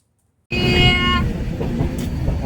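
A packed commuter train runs loudly and steadily after a half-second of silence, with a bright tonal ringing early on over a continuous rumble of wheels and carriage noise.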